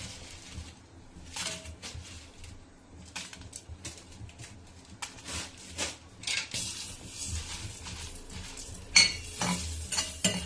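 Twenty Byadgi chillies frying in butter in a pan while being stirred, a steady soft sizzle broken by repeated scraping and clinking of the spoon against the pan, close and alone.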